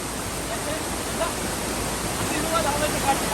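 Forceful water pours down a waterfall at Vaazhamala in Kannur, Kerala, making a steady, broad rushing roar heard close and without pause.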